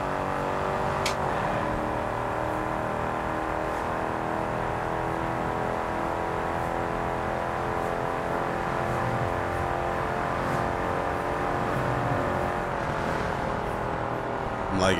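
A car engine driving in the racing game Test Drive Unlimited Solar Crown, a continuous humming drone with shifting pitch under light background sound, steady throughout.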